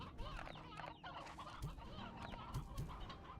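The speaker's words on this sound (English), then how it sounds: "I can start burning chickens if there's too many." Chickens in the video game Slime Rancher 2 cluck softly in a cluster, with a few short bursts of clucking over a faint, busy background and no voices.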